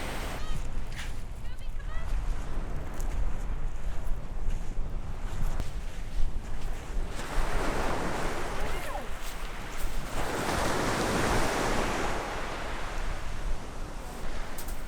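Ocean waves washing onto a sandy beach on the Cotentin Peninsula in France, a continuous broad roar with surges building and receding, heavy wind buffeting the microphone and a voice talking over it.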